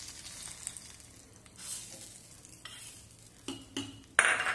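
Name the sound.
hot tempering (tadka) of mustard seeds and cumin poured onto dish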